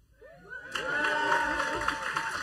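An audience gives applause and cheers, with whoops, for a band at a live performance. The crowd noise swells in after a brief quiet moment and holds steady.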